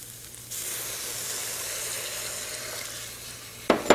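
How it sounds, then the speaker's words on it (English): Milk poured into a pan of reduced, stirred carrots while making a traditional Indian sweet, a steady loud sizzle and hiss with bubbling that starts suddenly and runs for several seconds before a clatter at the end. "So we've been stirring now for 10 minutes. See how nicely reduced it is? Let's add our milk."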